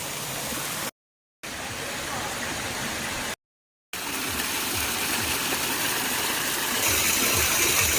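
Steady rushing spring water from a small waterfall, broadband and continuous, briefly cut out twice, with a brighter hiss near the end.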